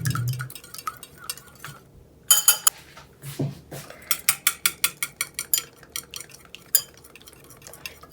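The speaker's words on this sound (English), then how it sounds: "And you just kind of mix it up because you are going to cook this later." Egg garnish is mixed in a bowl with a utensil, producing a quick run of rhythmic clicking strokes and scrapes against the bowl after a brief pause.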